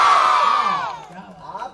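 Audience at a Hindi comic poetry gathering shouting a patriotic chant in unison, a loud crowd roar that swells then fades with scattered voices trailing off.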